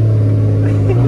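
Porsche 911 Carrera 4S with a naturally aspirated engine, idling or running steadily: a loud, continuous low drone with strong bass harmonics and no breaks.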